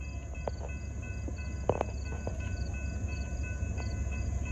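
Norfolk Southern 38G freight train led by ET44AC 3630 with a rear DPU, a low steady rumble of rolling cars with faint clanks and squeaks, heard from trackside at a distance.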